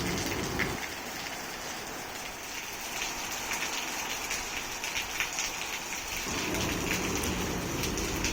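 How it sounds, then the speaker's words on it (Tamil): Steady rain falling and pattering on surfaces, a continuous broadband hiss with dense drops, fairly close, with no voices. "அடுத்த ரவுண்டு வந்து மழை ஸ்டார்ட் ஆகி செம்ம கூலிங் ஆகிடுச்சு ஊரே."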